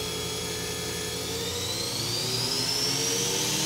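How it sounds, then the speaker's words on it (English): The spindle of a Hyundai Kia VX650 vertical machining center with a Fanuc 18i control runs with a steady mechanical whine, and a thin high tone climbs smoothly as the speed rises, loud and continuous throughout. "The spindle's currently running at 1500."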